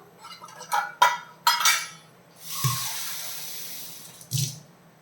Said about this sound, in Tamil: அந்த மாவு எடுத்த கப்லேயே தண்ணி எடுத்துருக்கிறேன்.